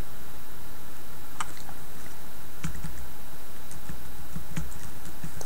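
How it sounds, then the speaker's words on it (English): Username and password being typed on a computer keyboard, heard as scattered soft key clicks in short bursts over steady background hiss, close and fairly faint, with no talk. "So enter your password and the username and login."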